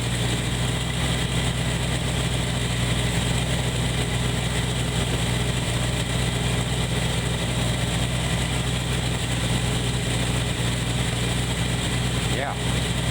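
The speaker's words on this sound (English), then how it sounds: "and it's idling nice" After a tune-up with the timing reset, an engine idles steadily with a low, even rumble that runs unbroken close to the microphone while a person talks over it.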